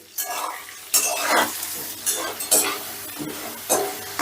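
Potatoes fry in oil in a pan over a medium gas flame, a steady sizzle broken by repeated bursts of stirring and scraping at roughly half-second to one-second intervals, fairly close, with no talk.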